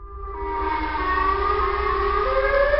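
Loud, continuous wailing siren from the Siren Head horror game monster, its tones rising and holding over a low rumble for about three seconds, no voices.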